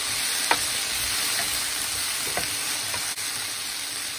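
Blood sausage (morcilla) frying in a pan with pepper: a steady, close hiss and crackle with a few small pops.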